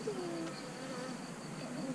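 Honey bees hum around an open hive, a faint continuous buzz with a few brief whining passes as single bees fly near.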